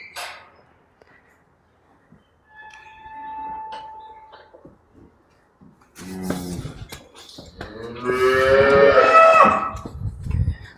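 A dairy cow lows in long, drawn-out moos, close by on a dairy farm, after a quieter stretch with faint tonal sounds.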